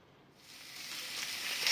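Zucchini slices fry in a pan lightly coated with vegetable oil, a soft crackling sizzle that starts quietly and swells steadily, heard close with no talking.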